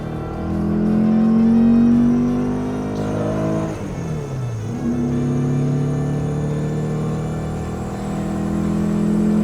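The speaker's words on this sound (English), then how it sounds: "let's go for a second gear pull just to see the difference" A powerful Porsche engine revs hard in second gear and climbs in pitch, briefly drops at a gear change, then pulls loudly again, close and steady with no talking.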